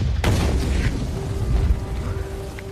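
A bomb detonates in a Nazi-era war film: a sharp, loud blast at the onset followed by a heavy, sustained rumbling roar and debris-like crackle that lingers without fading.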